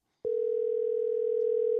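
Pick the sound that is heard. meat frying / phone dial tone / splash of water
phone dial tone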